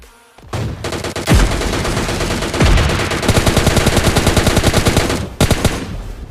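PUBG Mobile Lite gunfire: a couple of heavy single shots, then sustained rapid automatic bursts with a steady rattling rhythm, loud and close, ending in short final shots.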